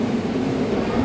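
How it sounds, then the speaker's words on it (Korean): Train pulling into a station in Penang, Malaysia, heard as a steady broadband rumble with a low hum throughout, fairly loud and close, with no talking. "열차가 지금 왔어요."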